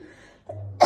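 A woman recovering from a lingering cough gives a single cough, a short sharp burst near the end after a moment of quiet throat sound, close and fairly loud, alone without talk.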